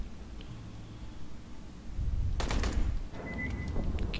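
A gun firing in Aliens: Colonial Marines: a short burst of rapid shots breaks in midway after low ambient hum, fairly close and loud, followed by a higher mechanical whine.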